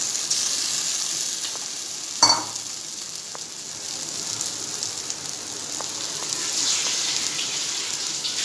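Spice and onion masala frying in oil in a pan for cauliflower and mushroom chops, a soft steady sizzle throughout with a brief clink of stirring near the start.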